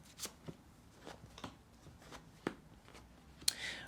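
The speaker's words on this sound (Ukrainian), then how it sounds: "викладаємо три карти одразу" A few soft, separate slaps and taps of three cards being set down on a table for a card reading, spaced irregularly, close up and quiet.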